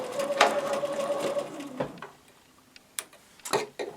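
A sewing machine runs a quarter-inch seam through fabric triangles in a steady burst for about a second and a half, then a few scattered clicks and taps follow as it stops.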